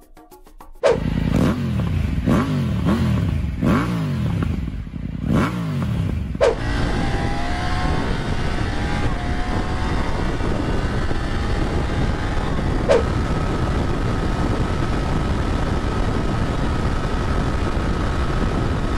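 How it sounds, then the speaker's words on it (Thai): A three-cylinder 900 Rally adventure-touring motorcycle engine revs hard through rising gear shifts, then holds a loud, steady high-speed drone with wind rush for the rest of the ride. "เดี๋ยวไปฟังเสียง3สูบหวานๆและดูท็อปสปีดของเจ้าคันนี้กัน"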